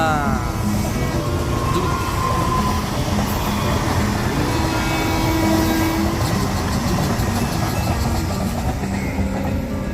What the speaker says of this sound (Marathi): मित्रांनो बघा, ट्रेन बघा.